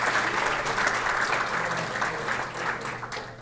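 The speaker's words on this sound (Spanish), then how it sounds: "Nuevamente fuerte el aplauso para el doctor Umpierres y estos reconocimientos" Sustained audience applause at an award presentation honoring a doctor after a talk on the clinical impact of obesity, a dense steady wash of many hands clapping that fades slightly toward the end.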